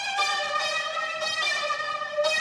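A synth pluck from the Umbra VST, U Plug 03 preset, rings out as a sustained bright tone with a few soft re-attacks, heard alone and fairly loud.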